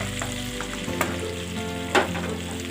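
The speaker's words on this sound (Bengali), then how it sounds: "And let's give this a quick star. গ্যাসটাকে আমরা একটু বাড়িয়ে দেবো" Whole peppercorns and a piece of cinnamon fry in a pan of hot oil, giving a close, steady sizzle with a couple of quick stirring knocks.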